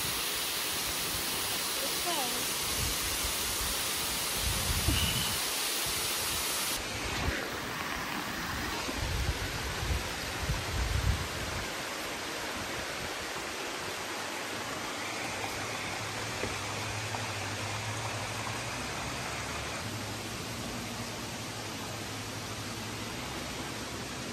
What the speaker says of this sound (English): That you see the waterfall.